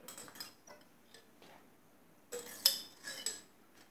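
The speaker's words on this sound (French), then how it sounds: "j'ai pris une cuillère pour racler le fond" A spoon scrapes the bottom of a container of fruit coulis in a few faint, short scratches and clinks separated by quiet pauses, with a louder cluster of scraping near the end and no talk.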